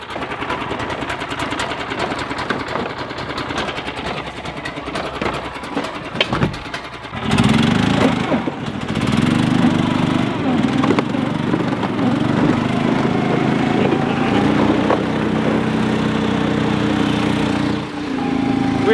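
A giant riding lawn mower climbs a hill, its engine a quieter buzz at first before surging to a loud, steady, revving drone that holds to the end, with no voices.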